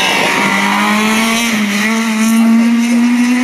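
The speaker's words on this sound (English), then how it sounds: "First guy comes past me now, that is Martin Stockdale." A rally car at the 2014 Alan Healy memorial rally at Cadwell Park passes close and loud on the stage, its engine drone steady and rising slightly in pitch as it goes by, with no voices.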